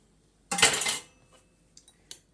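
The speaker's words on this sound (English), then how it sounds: "we're just going to stir that in so that it becomes nice and liquid, like the milk is" Spoon clinking and scraping against a bowl while warm milk is stirred into yogurt, one busy burst of clatter followed by a few light isolated taps, close and fairly quiet.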